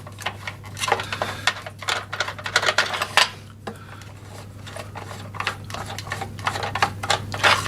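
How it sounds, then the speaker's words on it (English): Bolts on the battery clamp of a Hyundai HYM460SPE lawn mower being loosened by hand, a run of close, rapid ticking and clicking bursts with short gaps over a steady low hum. "loosen and undo the two battery clamp bolts"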